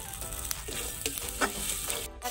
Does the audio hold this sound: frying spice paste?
yes